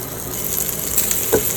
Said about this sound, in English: I give it a spin so that I get an even coverage so that it sears nicely